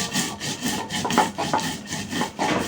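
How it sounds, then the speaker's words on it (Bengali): Cumin and mustard seeds are ground on a stone for taro-leaf and lentil fritters. The sound is close, rhythmic rubbing and scraping in quick back-and-forth strokes, with no voices. "সর্বপ্রথমে জিরা সরিষাটা বেটে নেব"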